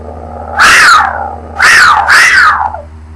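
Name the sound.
person imitating a mountain lion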